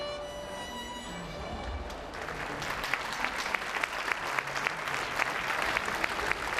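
Outdoor crowd applause for a violinist's street performance, starting after a musical passage fades and building into steady, dense clapping from a gathered group of passersby.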